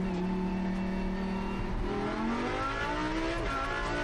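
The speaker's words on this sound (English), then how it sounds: "the cars are still trying to get up to a decent speed" Lamborghini Super Trofeo race cars accelerating at Fuji, a loud continuous engine roar with rising, overlapping whines as the pitch climbs through the gears.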